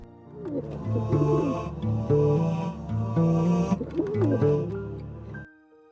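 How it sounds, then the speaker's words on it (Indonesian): A bird coos in low, throaty, repeated phrases within a drama series scene, loud and close over a dense musical or ambient backdrop, ending abruptly. "Kembali pada Mustafa, ia pun berusaha menangkap burung itu."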